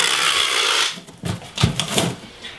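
Packing tape rips loudly off the roll and is pressed along the bottom of a shipping box for a musical instrument, with a long tearing screech and then several short crackling strokes.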